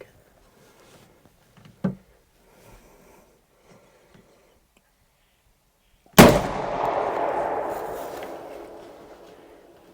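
A single loud, close rifle shot from a Marlin 336 in .30-30 fired at a deer outdoors, a sharp crack followed by a long rolling echo that fades over several seconds, after a brief earlier knock and faint quiet talk.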